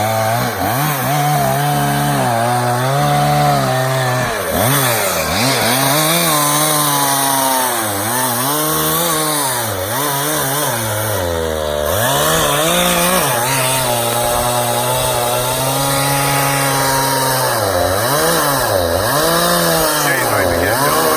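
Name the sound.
chainsaw cutting a hung-up oak tree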